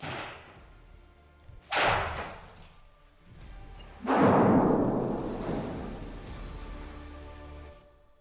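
Render-safe tool firing a shotgun cartridge in an explosive disposal demonstration at Twentynine Palms, California: a sharp blast at about two seconds, then a louder, booming detonation near four seconds that rumbles and fades over several seconds.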